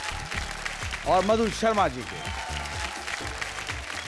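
A studio audience applauds to welcome the judges on a televised talent show stage. The applause runs as a continuous bed beneath a host's voice, which speaks over the middle of the stretch.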